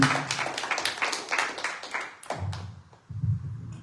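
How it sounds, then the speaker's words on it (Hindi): Applause from a small audience welcoming a performer at a talent show, a burst of close clapping that fades out, then a few louder claps return near the end. "प्लीज जोरदार तालियों से स्वागत कीजिए अचिनी जी."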